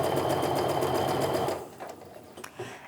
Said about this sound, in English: Just go ahead and keep sewing all the way down to the bottom.